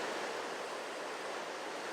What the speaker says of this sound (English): The upper Mesa Falls, which you can hear roaring here, are about a 10-story drop